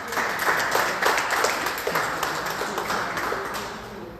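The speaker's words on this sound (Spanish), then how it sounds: "Y le damos un fuerte aplauso" Audience at a binational symposium on identity and borders applauds, a dense run of clapping that starts strong and gradually thins out, heard alone without talk.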